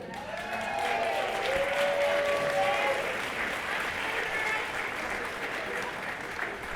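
Audience applause at a women's awards banquet, a steady wash of many hands clapping that holds loud and even throughout, with a brief tonal whistle-like sound near the start.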